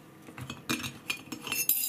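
A teaspoon clinks against a glass in a few quick, light taps, bright metallic chinks scattered irregularly over a short stretch, close and fairly quiet.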